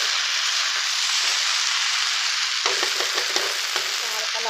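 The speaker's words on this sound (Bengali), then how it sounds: "ভেন্ডিগুলো মশলার সাথে আমি ভালোভাবে মিশিয়ে নিয়েছি। হালকা নাড়াচাড়া করে নেব।" Okra coated in spices fries in a pan with a steady, close sizzle, and from midway comes a run of spatula scrapes and clinks as it is stirred.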